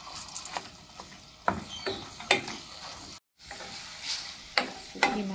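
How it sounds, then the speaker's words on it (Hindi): Minced meat frying and stirred in a pan, a steady sizzle broken by repeated scraping strokes of a spoon, close and fairly loud with a brief dropout midway. "कीमा भुन रहा है मेरा"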